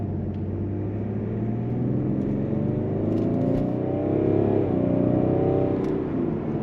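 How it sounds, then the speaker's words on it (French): A BMW 550d Touring diesel, 400 hp, in comfort mode pulls hard under full acceleration, its engine drone loud and close and rising steadily in pitch through one long surge, with no talk over it. "Véhicule qui pousse vraiment très fort."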